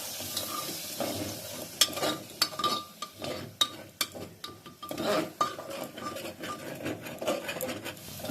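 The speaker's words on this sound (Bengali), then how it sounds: "এবার খুব ভালো করে আমি কষিয়ে নিচ্ছি" Spice masala for ghughni, moistened with a little water and salt, is stir-fried in a pan: a low sizzle under frequent sharp spatula scrapes and metallic taps in uneven rhythm, close up, no voices.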